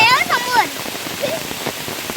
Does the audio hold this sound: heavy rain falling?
yes